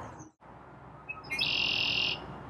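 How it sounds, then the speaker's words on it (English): Outdoors in an urban park in spring, a red-winged blackbird gives its call: a short note, then a buzzing, trilled conk-la-ree held for under a second over steady background noise, fairly close. "That's Mr. Red-Wing Blackbird."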